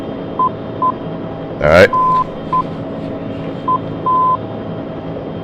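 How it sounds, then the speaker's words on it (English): Short steady tones keyed in a Morse identifier pattern from an NDB radio beacon, heard through the radio in a Huey helicopter; a brief burst of noise and a single spoken word come partway through. "you'll hear the Morse code"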